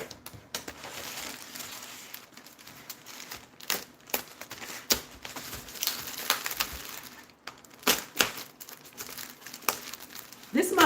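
Plastic screen protector packaging for an iPad crinkles and crackles in irregular bursts close by, with sharper rustles toward the end and a voice talking intermittently over the handling.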